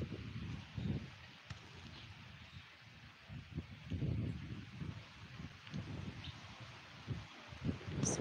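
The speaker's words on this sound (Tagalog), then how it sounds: "lakas ng hangin eh" Gusty wind buffets the microphone in low, uneven bursts, swelling and easing over several seconds with no voices.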